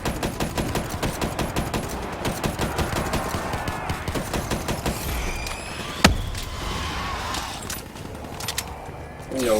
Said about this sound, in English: Spike gun?